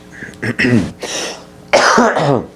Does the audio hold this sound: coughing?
yes